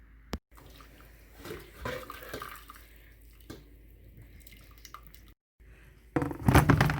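Water from a hose runs and trickles into a large canning pot with intermittent splashes and drips, quiet at first, then swelling into a louder rushing pour near the end.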